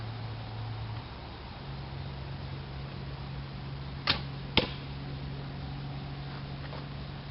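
A field arrow loosed from a homemade PVC bow outdoors makes two short sharp snaps close together over steady background hiss and a low hum, with no talking.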